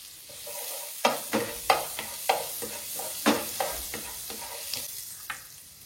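Butter and garlic frying in a pan for white sauce pasta, a steady close sizzle punctuated by repeated rhythmic scrapes and taps of a spatula stirring, with no talking.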